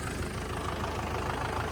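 A tractor engine idles steadily at close range, a low continuous rumble with an even mechanical throb and no voices.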